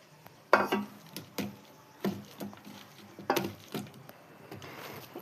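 Soft cooked chana dal being mashed in a pot, a series of wet, squelching thuds and scrapes repeating at an uneven rhythm, close by.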